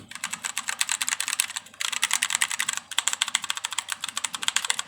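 Rapid clacky typing on a mechanical keyboard, dense bursts of keystrokes with brief pauses, close and crisp, no voices.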